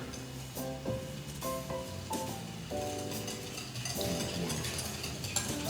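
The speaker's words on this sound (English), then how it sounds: "I'm gonna give this a stir" A spoon stirring a glaze mixture in a bowl, giving repeated clinking and scraping knocks in an uneven rhythm, close and fairly clear, with no talking.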